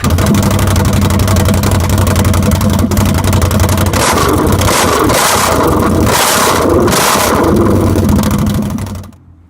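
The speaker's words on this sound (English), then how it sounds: "Here we got 2013 CanAm XMR 650 with no muffler at all," A 2013 Can-Am XMR 650 ATV with a straight pipe and no muffler runs loud and close, a raw, heavy engine roar rising and falling with throttle before cutting off abruptly at the end.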